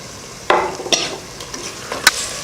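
Ginger-garlic paste and tomatoes sizzle in a pan as they are sautéed for egg biryani, a low frying hiss with three distinct spoon scrapes against the metal, close and clear.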